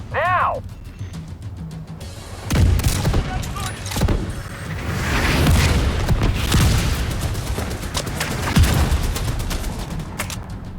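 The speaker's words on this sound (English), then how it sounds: "Mortar, now!" Mortar strikes in The Division land as a run of heavy booming explosions and rumbling blasts, loud and close, with gunfire-like cracks and some game voices mixed in.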